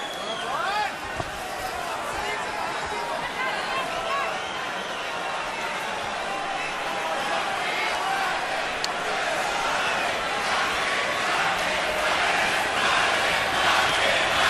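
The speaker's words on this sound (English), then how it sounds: "now they're chanting Marquez, Marquez, Marquez" A large boxing crowd at a Pacquiao–Marquez fight chants Marquez's name in a steady roar with rhythmic swells, loud and continuous under a commentator's voice.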